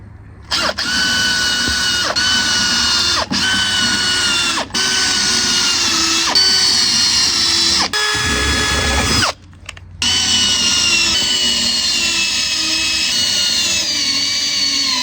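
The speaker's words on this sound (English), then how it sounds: "Same thing, pre-drilling all these. Then screw these bad boys in." A power drill whines loudly in repeated long bursts, pre-drilling deck timber and driving screws, each run separated by a brief stop, very close and continuous, with a short low rumble between runs near the end.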